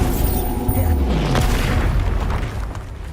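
A Bombarda spell in Hogwarts Legacy bursts as a loud, deep boom with a rumbling tail that fades over a few seconds, thick with game effects.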